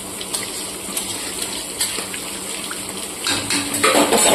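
Water poured into a simmering fish curry gravy in a pot: a soft steady trickle that swells into a louder gush toward the end, with no talking.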